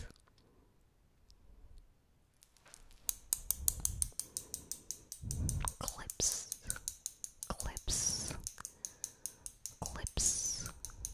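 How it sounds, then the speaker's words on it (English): Scissors snip through hair during an ASMR haircut role play, a rapid series of crisp, close metallic clicks and snips with brief whispering between them. "Scissors."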